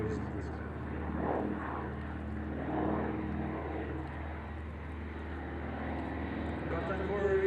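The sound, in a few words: Junkers Ju 52 aircraft on final approach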